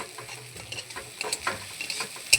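Onions frying in oil with dried red chillies, sizzling steadily while being stirred, with scattered scrapes and clicks of a utensil against the pan and no voices.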